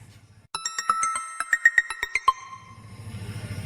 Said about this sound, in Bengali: হ্যাঁ রিং হইতেছে